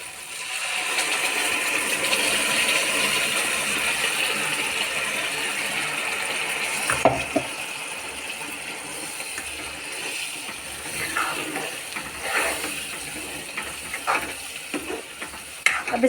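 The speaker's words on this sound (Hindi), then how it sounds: "अब मैं इसके अंदर डाल दूँगी ये टमाटो प्यूरी।" Tomato puree hits cooked masala in a pan, giving a steady soft sizzle and bubbling hiss, with occasional scrapes and clinks of a stirring spoon against the pan.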